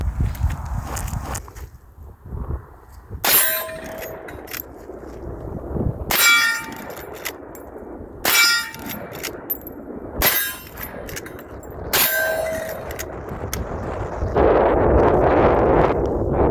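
A Marlin 336 lever-action rifle fires five sharp, loud shots spaced a couple of seconds apart, each ringing briefly over a steady background hiss, with no talking.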